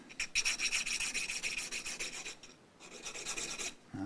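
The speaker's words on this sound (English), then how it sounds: "put them on a flat block, and get this sanded" Frets on a Fender MIM Telecaster being sanded flat on a flat block: steady, rapid rasping strokes that run continuously, break briefly, then resume close up with no talking.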